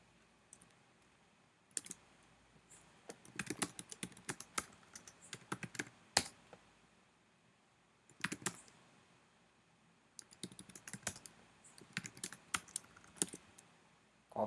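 Typing on a computer keyboard in bursts of rapid clicking keystrokes with short pauses between, fairly close and clear, with no talking.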